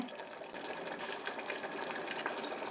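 Water being poured into a pot holding two cups of basmati rice for chicken biryani, a steady broadband splashing rush lasting the whole few seconds, close and fairly quiet, with no talking.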